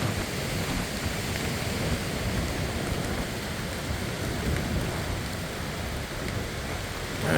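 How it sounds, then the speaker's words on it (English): Rain falls steadily at an English lake in April, a dense, even hiss of drops with breezy wind mixed in, constant and fairly close throughout, with no voices. "And the rain."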